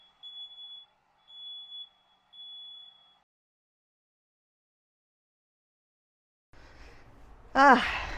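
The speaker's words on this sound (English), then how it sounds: "hopefully you guys will not hear a stupid alarm that goes off in my house" A house alarm sounds three evenly spaced high-pitched electronic beeps, then silence, followed by brief rustling and a short chirp-like sound near the end.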